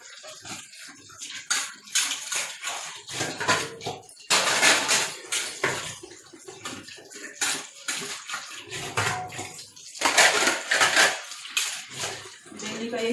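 Plates and dishes clatter into a dish-rack stand beside a kitchen sink basin during morning cleaning, with repeated sharp ceramic and metal knocks over running, splashing water.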